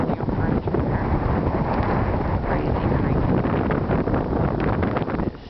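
Wind blowing hard during an Iowa blizzard, a loud constant roar buffeting the microphone in a backyard with deep snow drifts, sustained without a break throughout.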